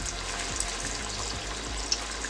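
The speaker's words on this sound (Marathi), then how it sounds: "तेल तापलेलं आहे, भजी तळून घेऊया।" Moong dal bhaji fritters frying in hot oil on a low gas flame, a steady close sizzle and bubbling with a few soft pops as batter drops in, no voices.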